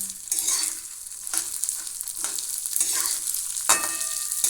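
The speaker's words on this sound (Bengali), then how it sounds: "এখন এই তেলেতে আমি এই মুগ ডালটা দিয়ে দিচ্ছি মুগ ডালটা আমি বেশিক্ষণ ভাজবো না" Moong dal frying in hot oil in a pan, a steady close sizzle with several bursts of stirring scrapes, no one speaking over it.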